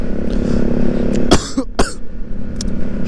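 Two sharp coughs close together, up near the listener, over steady outdoor wind and background rumble during a motorcycle ride in Tanay, Rizal.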